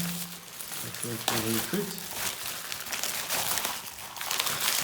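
A plastic packet holding a LEGO magazine dinosaur set is torn open and crinkled, with steady rustling and crackling throughout and a short burst of speech in the middle.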